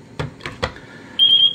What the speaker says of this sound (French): Voilà, donc ça bip.